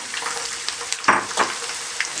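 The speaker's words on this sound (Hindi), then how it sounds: "शिमला मिर्च बहुत जल्दी नरम हो जाती है, तो इसको आपने तकरीबन 2 से 3 मिनट के लिए फ्राई करना है।" Capsicum frying in a pan, a soft crackling sizzle with a few sharper spits and pops scattered across the short stretch, heard close and alone.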